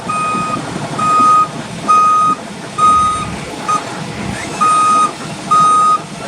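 An International aerial bucket truck operates with loud, regular reversing beeps sounding about once a second over a low engine rumble.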